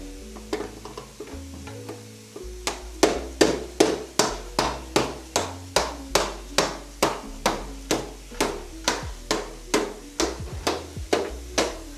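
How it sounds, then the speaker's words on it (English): Sharp metal hammer strikes ring out in a steady, regular rhythm, about two per second, close and loud, driving an axle through a Harley-Davidson motorcycle wheel, after a few scattered lighter knocks. "I'll go ahead and lift up the wheel and hammer through"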